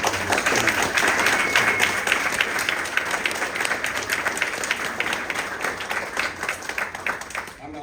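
Loud, sustained applause from an audience at a school archery honors event, many hands clapping in a thick, steady patter that eases slightly before stopping abruptly.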